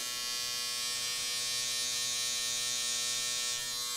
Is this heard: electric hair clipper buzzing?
yes